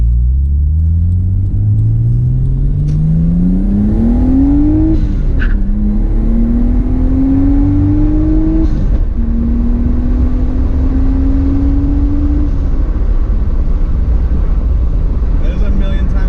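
A project car's engine revs up in first gear with a loud rising drone, easing off and climbing again in repeated pulls, with occasional sharp pops and some voices in the background.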